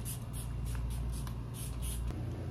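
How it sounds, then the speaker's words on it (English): Short hissing bursts of a Bath & Body Works body mist spray bottle repeat several times in quick succession, close and fairly soft, over a low background hum. "So we're gonna spray this on."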